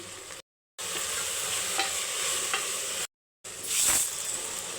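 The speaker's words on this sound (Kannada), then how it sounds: "ನಿಮಿಷ ಇದು ಚೆನ್ನಾಗಿ ಫ್ರೈ ಮಾಡ್ಕೊತೀನಿ ನಾನು ನಾಲ್ಕು ಒಣಮೆಣಸಿನ್ಕಾಯಿ ಕಾಯಿ ತುರಿ ಕೊತ್ತಂಬರಿ" Dry red chillies, grated coconut and coriander frying in a pan, giving a steady close sizzle with light stirring scrapes, broken by two short silent gaps.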